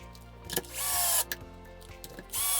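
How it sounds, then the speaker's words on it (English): A power tool drives screws into the skid plates of a Traxxas Wide X-Maxx RC truck, giving short close whirring bursts separated by small clicks and handling noises, with no talk. "Slide the skid plates in place and put our 4 screws in to retain it."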